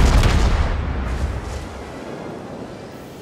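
Naval gunfire from a warship's guns in World of Warships, a heavy, loud boom at the start that rolls off into a long, fading rumble over about three seconds.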